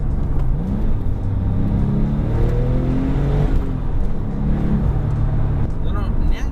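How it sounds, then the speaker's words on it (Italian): A manual Porsche 997 Turbo engine revs up toward redline, its loud droning pitch climbing steadily, with a voice talking over it. "Bisogno di tirare il collo a questo motore fino alla zona rossa"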